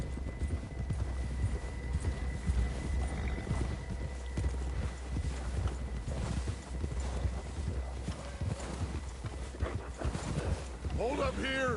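Horse hooves galloping in Red Dead Redemption 2, a steady rapid clip-clop under ambient game sounds, with a whinny near the end and brief talk.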